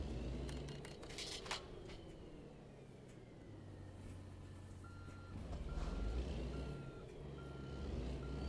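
Trucking video game: a truck's reversing alarm beeps in a regular repeating pattern over a low engine rumble, fairly faint overall.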